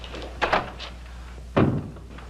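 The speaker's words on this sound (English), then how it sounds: "Close the door." A door being closed in an office setting: two muffled wooden thunks, the second heavier and fuller like the door shutting home, heard alone against a low steady hum.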